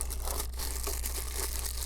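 Crinkling plastic bag holding plastic prying tools and guitar-pick style openers from a PC repair screwdriver set, handled close up in steady soft rustling bursts with no talk.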